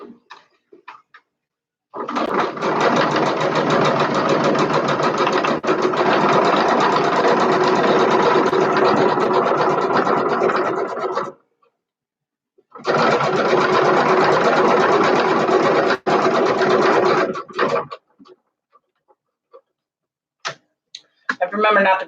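A sewing machine top stitching fabric runs in two long, steady, loud bursts of rapid needle chatter separated by a short pause, with quiet handling sounds before and after.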